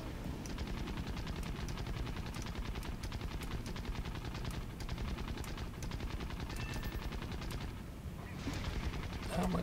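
Rapid aircraft machine-gun fire from a British reserve plane in War Thunder chatters almost without pause, a dense, continuous stream of shots with a slight lull near the end before it picks up again.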